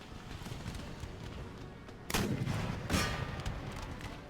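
Artillery fire in the strategy game Empire: Total War, two heavy booming blasts around the middle and later, over a steady bed of distant battle rumble and crackling musketry.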